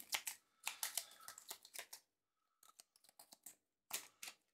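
Cards from a board game draw pile being shuffled by hand, close, crisp riffling bursts in three separate runs with short pauses between.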